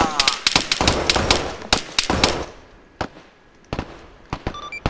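Mortar fire in the video game Operation Black Jacket, a rapid string of sharp, loud explosive cracks that thins into scattered single blasts with quieter gaps between them.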